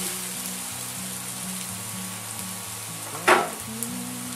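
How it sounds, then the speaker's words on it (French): Shallots and mushrooms sizzle steadily in a frying pan, a close, even crackle with a low hum beneath, broken by one brief louder clatter of stirring near the end. "Quand les échalotes commencent à griller un peu, vous y mettez les champignons."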